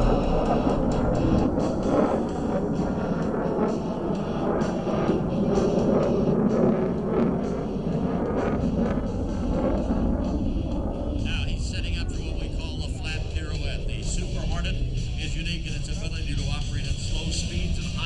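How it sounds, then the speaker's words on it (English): FA-18 Super Hornet jet at an air show, a continuous loud roar that shifts in tone as it builds speed, with an announcer talking over it throughout. "He'll roll the Super Hornet to the upright, building up speed"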